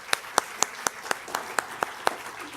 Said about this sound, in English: Can we give you an applause?